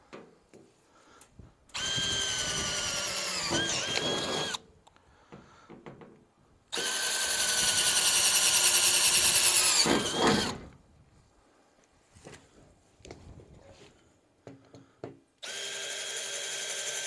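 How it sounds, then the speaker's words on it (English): A power drill whirs in two long bursts, drilling holes to install a weight distribution hitch storage tool box, with shorter bursts and clicks of handling between, close by and loud. "Drill each one."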